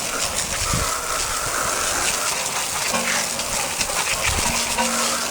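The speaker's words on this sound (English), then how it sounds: "Okay, so then you can just wash it off with your water hose." A water hose sprays a wheel and tire, a steady hissing gush of water close up with a few faint clunks, no voices.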